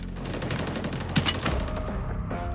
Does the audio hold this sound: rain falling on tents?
no